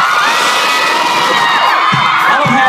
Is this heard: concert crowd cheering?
yes